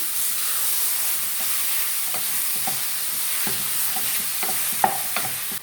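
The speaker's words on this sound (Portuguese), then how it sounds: "Agora eu vou colocar a carne moída. Vamos refogar bem." Ground beef sautéing in a pan, a steady close sizzle with intermittent soft stirring scrapes and one sharper clink near the end, no voices.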